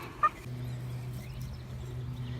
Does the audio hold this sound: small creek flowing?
no